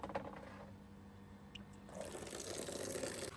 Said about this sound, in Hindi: पहले तो इस टब में पानी भरते हैं।